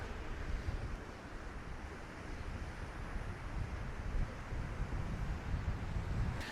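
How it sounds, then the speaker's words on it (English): Steady wind blows on a breezy day at the seaside in Sa Coma, Mallorca, rumbling and buffeting continuously with gentle swells in strength and no voices. "So it's a lovely breezy day over in Sa Coma today."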